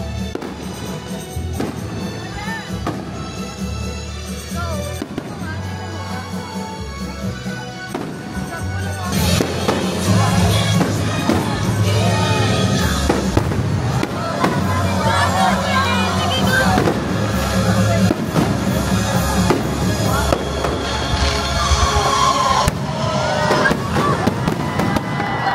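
A fireworks display at Enchanted Kingdom theme park fills the air with continuous bursts and crackling pops. The barrage grows louder and denser partway through, with crowd noise and music underneath.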